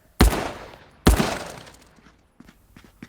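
Two loud, close blasts of submachine gun fire in the VR shooter Contractors, each a sharp burst tailing off, followed by faint clicks and shuffling.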